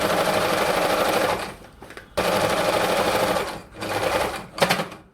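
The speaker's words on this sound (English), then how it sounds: "So I'm sewing down the shoulder like this." A sewing machine stitches down the shoulder seam of denim jean fabric in two loud, steady runs of rapid stitching, separated by a short pause, with a brief burst of back stitching near the end.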